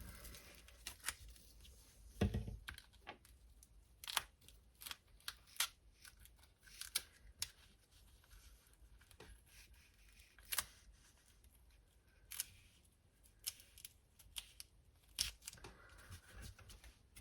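Repeated crisp snips of scissors cutting through self-adhesive frame backing, uneven clicks and short rasping cuts spaced irregularly across a quiet room, close and fairly soft, with no talking.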